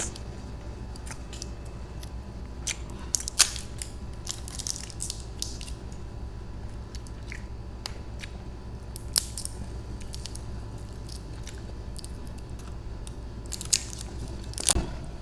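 Someone bites into and chews crunchy whole fried chicken up close, with scattered sharp crackling crunches over a quiet steady background.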